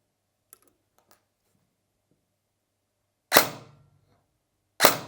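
An SSR4 Mk2 airsoft rifle fires two sharp, loud shots a second and a half apart during a trigger test, after a few faint mechanical ticks.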